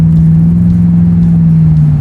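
A 1980 Trans Am restomod with an LS3 V8 cruises steadily, its engine giving a loud, continuous low drone with an even, unwavering note throughout.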